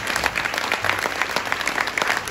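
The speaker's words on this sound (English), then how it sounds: "which deserves another round of applause" Dense, steady audience applause fills a stage event at an annual school function, many hands clapping continuously and loudly with no pause.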